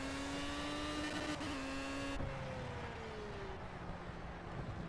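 Formula One car engine in the racing game Project Cars at Spa, a loud high-pitched whine that holds steady, then drops sharply as the revs fall off, with a rushing wind-like roar underneath.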